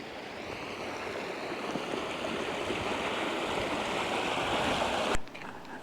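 A small river flows at a hillside crossing in the Scottish Highlands, giving a steady, close rush of running water that holds an even level throughout before cutting off with a brief knock near the end.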